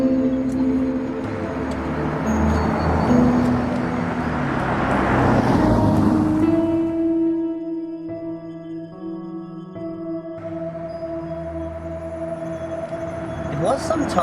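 A 2019 BMW X5 M50d luxury SUV with its diesel motor driving on the road, a steady engine and road drone that swells midway then settles into an even tone, with speech heard over it.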